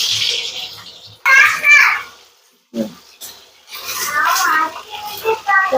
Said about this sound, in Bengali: তো দেখুন তেলটা হয়ে গিয়েছে, আমার পটলগুলো দিয়ে দেবো। প্রথমে পটলগুলো ভেজে নেব।